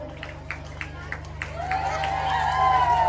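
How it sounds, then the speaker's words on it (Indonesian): Audience at a senior citizens' solo singing contest claps in scattered, uneven bursts, then a sustained musical tone swells beneath as someone talks over it. "Ya, tepuk tangan untuk penampilan nomor undian 10."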